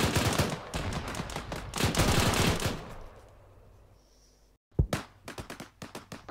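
Bursts of machine gun fire from a light-skinned vehicle's mounted MG in ArmA 3 rattle loudly for about three seconds, fade into a quiet pause, then return as scattered sharp single shots.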